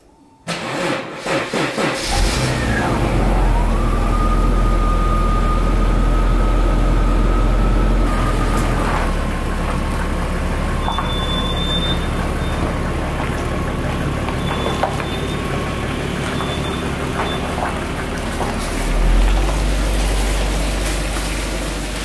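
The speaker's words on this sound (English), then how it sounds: "So I'm going to pull the car out, just go for the briefest test drive" A Jaguar XJ40 starts up and idles steadily, then is driven out for a brief test drive, its engine running loud and close throughout with slight revving near the end and no talking.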